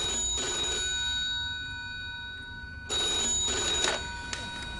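An old telephone bell rings in two separate bursts with a pause between them, heard clearly over a quiet room background.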